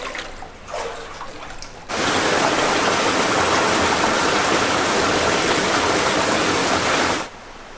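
Water rushing loudly and steadily close by inside Waipu glow worm cave, a dense broadband wash that swells up after a quieter opening and cuts back down near the end.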